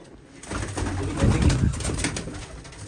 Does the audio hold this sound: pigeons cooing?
yes